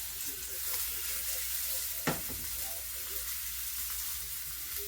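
Swordfish and scallops sear in a hot pan with a steady, even sizzle and hiss, broken by one sharp clink of the pan partway through.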